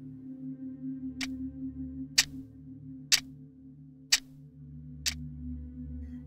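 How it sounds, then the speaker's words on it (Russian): A clock ticks five times at an even pace of about one tick per second, each tick sharp and distinct over a steady low hum. "это шум часов"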